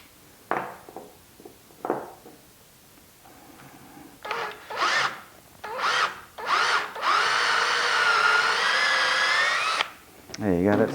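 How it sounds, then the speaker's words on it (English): Short bursts of a power drill boring into a wooden spindle on a lathe, then a longer continuous drilling run, loud and close with brief pauses between. "I might drill that a little bit deeper"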